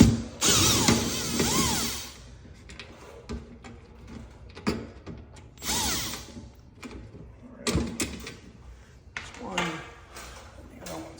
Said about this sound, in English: we are going to remove the 2 header cover screws